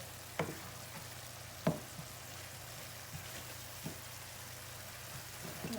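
Corn frying in butter in a pan, a steady low sizzle with a few faint spoon or pan knocks, close and alone without talk.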